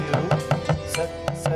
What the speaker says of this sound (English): And we're going to chop that up.